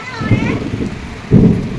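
Heavy downpour roars loud and close as a low thunder rumble swells near the end, while a voice briefly speaks over the rain.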